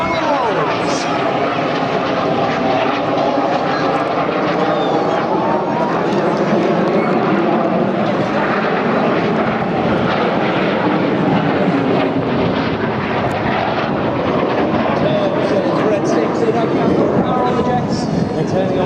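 Red Arrows synchro pair jets flying opposition barrels at a Clacton-on-Sea air show: a continuous, loud jet roar sweeping overhead with shifting pitch, under a commentator's voice.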